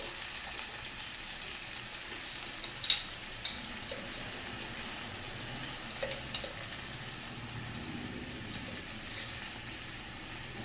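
Mango pickle mixture with Kashmiri chilli powder and salt bubbling in a pan, a faint, steady hiss and simmer with a few soft clicks and pops close by.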